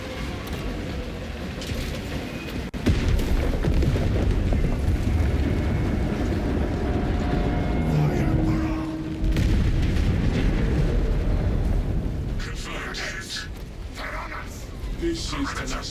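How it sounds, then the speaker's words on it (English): Explosive charges detonate in the video game Space Marine 2, a heavy, sustained rumbling roar of blasts with dense low booming that swells and holds under game voices and battle noise. "Detonate the charges now."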